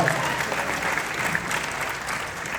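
An audience at a haunted-attraction panel event applauds, a sustained wash of clapping from a crowd that holds steady at moderate loudness throughout, with no distinct voices over it.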